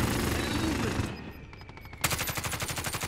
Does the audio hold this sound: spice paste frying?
no